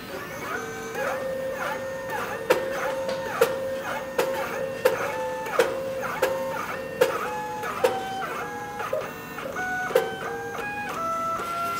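A MakiBox A6 3D printer extrudes filament with its bed calibrated slightly too close, giving a steady whirring stepper-motor tone that shifts pitch in steps, broken by repeated sharp pops at fairly regular intervals, heard close with no talking.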